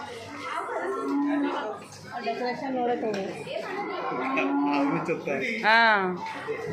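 Cattle moo several times at middle distance, drawn-out lowing calls mixed with children chattering and people talking nearby.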